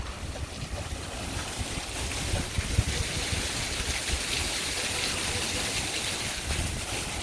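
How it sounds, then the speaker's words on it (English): Water fountains run steadily in Salesforce Park, a rooftop park in downtown San Francisco, a continuous broad rushing splash with some wind buffeting, constant and fairly loud throughout. "There the fountains go."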